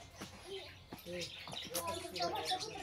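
Birds chirp and call close by in short, lively bursts, mixed with people talking over them.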